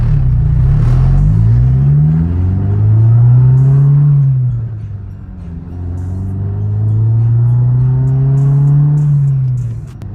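A 2002 Acura RSX base 5-speed with a K20A3 engine, full bolt-ons, tune and straight-pipe exhaust drones loudly at close range, its pitch rising and falling in two long rev swells with a deep rumbling tone throughout.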